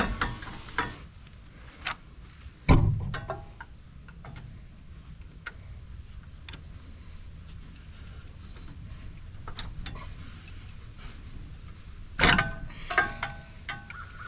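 A ratchet turns a 1959 Thunderbird engine by its crankshaft bolt after 33 years parked, giving faint clicking ticks with a couple of louder metallic clunks, close and without talk.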